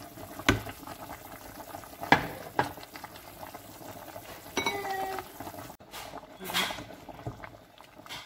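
A pot of mafé peanut sauce with smoked fish bubbles and simmers as peanut paste goes in, with scattered clinks and scrapes of a utensil against the pot over the soft, continuous bubbling.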